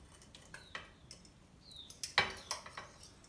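A fork scraping and clinking against a pan as a poached egg is slid out, with a few quiet, close metallic ticks and scrapes, no talking.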